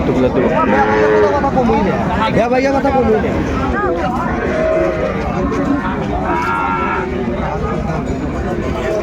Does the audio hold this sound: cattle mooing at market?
yes